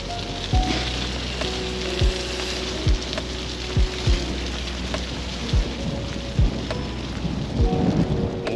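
Steady rain patters down over a long stretch while cycling, with a low rumble underneath and sharp drops or drips hitting a surface every second or so.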